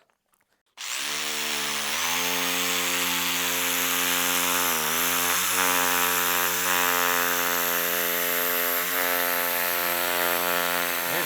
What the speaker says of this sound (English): help me hold this target while I cut it